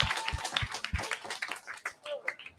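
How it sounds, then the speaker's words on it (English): Guests at a crypto dinner meetup give a round of applause, scattered sharp claps from a small group that thin out quickly while a voice talks over them. "Give him a round of applause."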